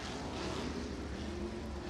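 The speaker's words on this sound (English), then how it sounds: "Cars continuing to circle the racing surface." USAC national sprint cars circle the dirt track at Ocala Speedway, a continuous distant engine drone with a steady rumbling tone and no voices over it.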